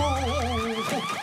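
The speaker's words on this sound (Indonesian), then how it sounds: "dan alarm pun berbunyi." A villa door security alarm goes off with a loud, warbling electronic siren, its pitch sweeping up and down in rapid, overlapping wails for the whole stretch, with no voices.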